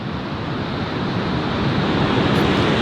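Steady roar of waves and wind at Tunnel Beach, loud and continuous with heavy wind buffeting on the microphone.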